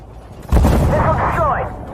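A missile is destroyed in the tank game Armored Warfare with a sudden loud boom that rumbles on while a voice speaks over it.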